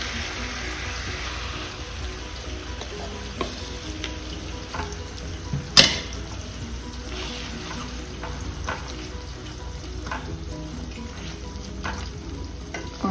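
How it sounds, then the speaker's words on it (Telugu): Brinjal curry with onion and chili powder sizzles steadily as it fries in a pan, with soft stirring scrapes, a single sharp clatter partway through, and occasional light taps. "వంకాయలు చెదరకుండా జాగ్రత్తగా కలుపుకోండి."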